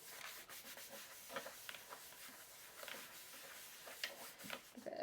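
A stamp platform sheet laid on a mouse pad is rubbed down firmly by hand. Close, soft scratchy strokes come in irregular bursts, fairly quiet, with no talking.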